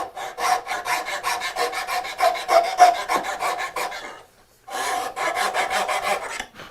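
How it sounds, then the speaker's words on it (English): A hand file rasps against wood in a mitered bridle joint, smoothing a mortise with steady rhythmic back-and-forth strokes, close and fairly loud, pausing briefly before another run of strokes. "I would rather come through and adjust the mortise because it's relatively easy to do with a file."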